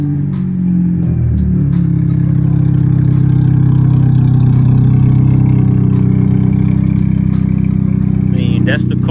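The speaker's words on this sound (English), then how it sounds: "Can you start the car for me?" A 2006 Acura TSX with its existing exhaust starts and runs steadily close by, its engine note rising in a short rev near the start, with people talking over it.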